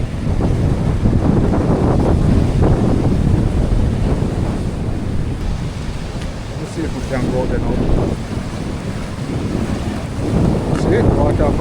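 Ocean surf washes in continuously at a coastal ruin, a steady broadband roar with wind buffeting the microphone, while someone talks over it.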